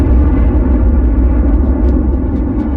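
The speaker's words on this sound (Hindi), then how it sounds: "बीच के इस भयंकर दबाव के कारण एक विशाल विस्फोट हुआ" A huge explosion effect standing for the Sun's birth, heard as a loud, sustained deep roar and rumble that fills the whole clip without a break.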